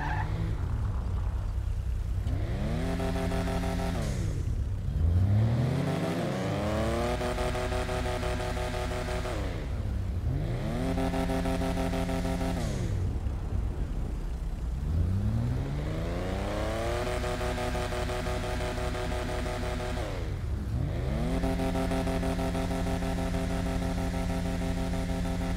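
A Dewbauchee JB 700W car engine in GTA Online revs repeatedly in long sweeps, climbing in pitch and dropping back, about five times, loud and steady with no talk.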